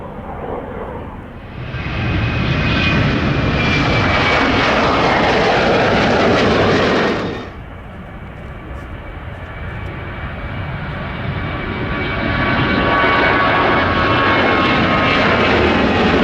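A Delta airliner jet takes off at Minneapolis–St. Paul airport with a loud, sustained engine roar that drops briefly and then builds again with rising whine tones.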